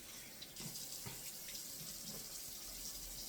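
A tap runs steadily into a sink while the face is rinsed with lukewarm water during a skincare routine, a soft continuous splashing flow with a few faint handling bumps and no speech.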